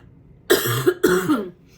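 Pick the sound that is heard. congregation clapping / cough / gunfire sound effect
cough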